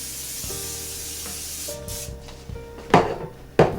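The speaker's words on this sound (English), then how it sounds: "Spray it really good with spray" Two short, sharp hissing bursts of cooking spray into a 9x9 baking pan near the end, preceded by quiet clatter and a low hum.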